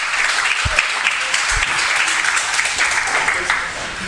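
Wrestling crowd at a main event match applauding and cheering the wrestlers, a steady dense wash of clapping and crowd noise throughout, with a couple of low thumps.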